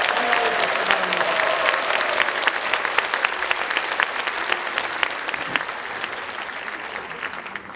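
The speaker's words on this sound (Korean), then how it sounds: "우리 담임 목사님께 감사와 사랑의 마음을 담아서 아주 큰 박수로 환영해 주시기 바랍니다" A church congregation claps long and loudly in a large hall to welcome their pastor at an anniversary dedication service, a dense steady wash of applause with no voices standing out.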